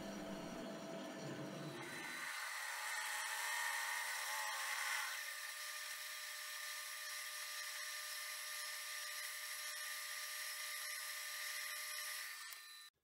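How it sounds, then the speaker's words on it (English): A lathe drills out a steel body for a mini treasure box, a steady high-pitched whirring with a hard tonal ring that holds for over ten seconds before cutting off. "So all I have to do now is drill out the body, part it off, and one is done."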